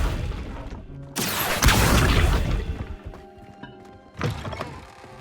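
An Accio summoning spell cast in Hogwarts Legacy gives a loud rushing whoosh-like burst that swells and holds for about two seconds, fades, and is followed by a shorter second burst near the end.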